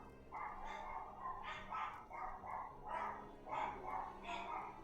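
Puppies yip and bark in Final Fantasy XIV Online, a series of about eight short, bright barks in a steady rhythm over a soft game background hum.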